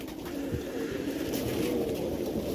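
Low, rolling coos from pigeons at a pigeon sale, a few soft calls over continuous background noise, nobody speaking.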